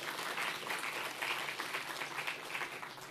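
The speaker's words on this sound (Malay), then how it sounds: "Kita bagi satu tepukan" An audience at a closing ceremony for an AI summer camp applauds, a dense, steady wash of many hands clapping throughout, fairly loud and without speech.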